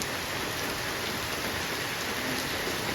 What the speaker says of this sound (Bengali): বৃষ্টি তো এখনও হচ্ছে